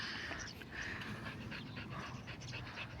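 A pet dog pants quickly and steadily, close but quiet, with faint soft whimpers and no talking.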